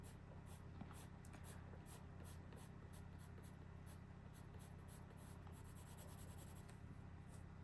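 Crayola warm gray colored pencil drawing on paper, a faint, steady scratching of repeated strokes with quick, rhythmic pencil scrapes throughout.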